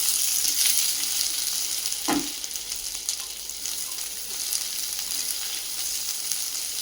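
Sliced onions stir-fry in hot oil in a pan for restaurant-style chilli paneer, a loud steady sizzle with a brief clunk of stirring partway through.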